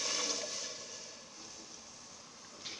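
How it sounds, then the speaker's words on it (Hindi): Water poured into a pot of sabudana (tapioca pearls) in a home kitchen, a steady splashing pour that is strongest at the start and tapers to a softer trickle, with a brief splash near the end. "अभी इसमें पानी डालें"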